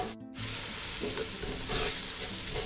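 Freshly ground spices frying with ginger and garlic in a pan for a pea and potato pilau, a loud, continuous close sizzle that cuts out briefly at the start and then runs on evenly.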